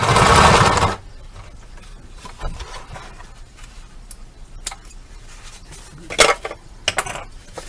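A sewing machine back stitching a cornhole bag starts with a short loud run, then pauses for quiet handling with clicks and taps of fabric and parts close by.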